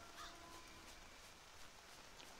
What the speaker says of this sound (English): I hear crows.